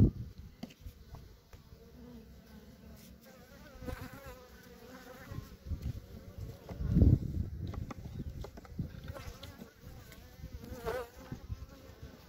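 Honey bees from hive colonies in a drought year make a steady, close buzzing drone that continues throughout, with a brief louder swell in the middle.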